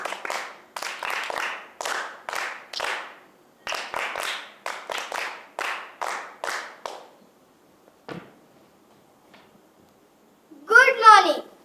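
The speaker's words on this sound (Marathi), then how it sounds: "मुलांनो, टाळ्या वाजवा बरं." Children clap in short rhythmic bursts at a school play, a run of regular hand claps filling the first seven seconds, then quiet with a brief knock before a voice speaks near the end.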